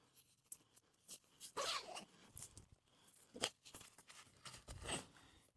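A few quick, raspy zipping strokes on a Gatewood Cape ultralight shelter zipper come in short bursts, separated by brief pauses and faint handling noise, close by and fairly quiet.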